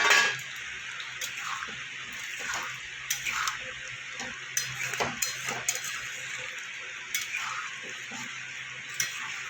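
Fried potatoes are tipped into a pan of Bengali spice masala simmering with a little water for a ridge gourd and potato curry, giving scattered utensil clinks and scrapes over a faint bubbling sizzle with no talk.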